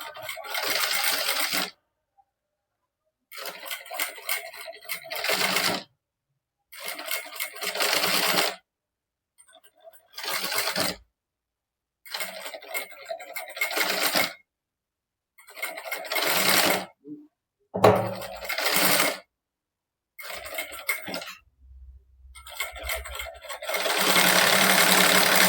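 A sewing machine stitches cloth for a princess-cut back in repeated short bursts of fast mechanical whirring, separated by brief pauses. It sounds close and fairly quiet.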